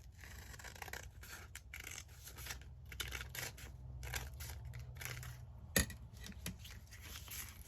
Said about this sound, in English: and then just snip them all in together